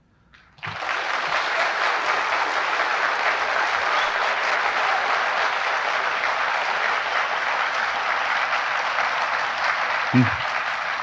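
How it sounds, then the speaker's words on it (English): Audience bursts into applause after a closing statement at the 1984 vice presidential debate, a sudden onset that swells into sustained, even clapping lasting many seconds, with a faint voice briefly near the end. "you will be allowed applause at the end of your closing statement"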